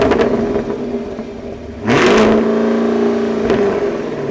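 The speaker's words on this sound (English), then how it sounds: "these dual tipped exhausts that you do get for this car. It sounds like no other." The dual-tip exhaust of a 2023 Camaro 1SS 1LE rumbles at a close, loud idle, then snaps into a single sharp rev that settles back into a deep burble, with a lighter blip near the end.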